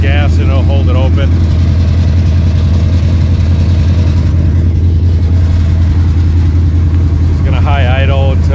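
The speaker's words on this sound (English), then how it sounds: "Just gonna high idle until it's warm enough where I can kick it back down." A cold car engine with a rebuilt Edelbrock Quadrajet carburetor runs at a steady high idle, a continuous low drone that holds throughout, while a person talks briefly at the start and end.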